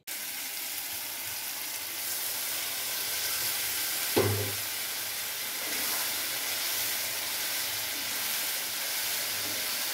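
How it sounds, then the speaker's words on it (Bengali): Potatoes, onions and spice paste stirred together in a hot wok give a steady broadband sizzle with a single louder scrape or clatter near the middle, close and continuous, with no talking. "তারপর এখন একটু নেড়েচেড়ে নিয়ে উষ্ণ গরম জল এর মধ্যে দিয়ে দিতে হবে।"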